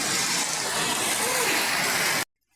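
Heavy rain from Typhoon Opong pours in a dense, constant roar of rushing water, then cuts off abruptly into near silence.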